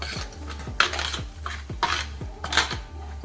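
A spoon scrapes and clinks around a vessel while ground fenugreek, asafoetida and oil are mixed for mango pickle, giving repeated rhythmic metallic taps and scraping strokes roughly twice a second, close and fairly clear.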